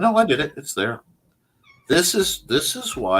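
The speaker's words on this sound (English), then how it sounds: "Yeah, that's a cat." A house cat meows in short, clear calls interleaved with a man's nearby speech, the cries fairly loud and close.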